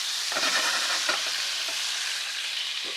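Quail frying in a pan, a steady loud sizzle filling the whole stretch with occasional soft stirring scrapes, close up and without talk.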